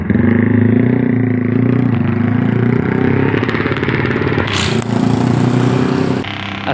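A motorbike engine on a Malaysian road holds a steady, close droning note with some clatter, rising slightly toward the end.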